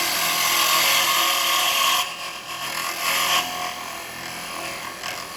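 Wood lathe turning with a carbide chisel, cleaning up the bottom of a Christmas smoker: a steady, loud broadband scraping hiss that drops in level partway through, then continues more softly as the cut lightens.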